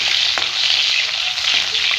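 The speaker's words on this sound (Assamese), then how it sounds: "পিঁয়াজখিনি অকণমান সময় ৰঙচুৱা হোৱালৈকে মই ভাজি ল'ম।" Onions sizzle steadily in oil in a kadai, a constant bright frying hiss with soft clicks of stirring, close and alone without talk.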